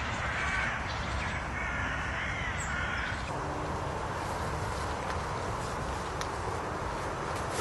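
Crows caw in a still, wet winter wood with no wind. Several harsh calls come from moderately far off over a steady outdoor background, with no talk.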